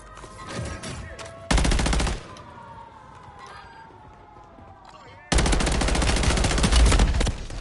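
Rapid automatic bursts of gunfire in a video game, two loud dense volleys at the start and end separated by quieter stretches with faint voice-like background sounds.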